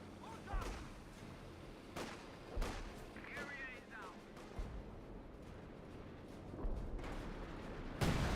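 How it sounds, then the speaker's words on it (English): Artillery fire in Company of Heroes 2: a series of sharp, heavy booms spaced a second or two apart across a battlefield, some distant, mixed with scattered gunfire and a voice commentating over it. "Major artillery being brought in right there."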